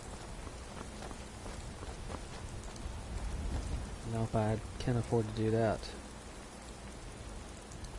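Steady rainfall hisses in the background of Skyrim on PS4, a constant wash of drops beneath a man's speech, with a louder burst of talk in the middle.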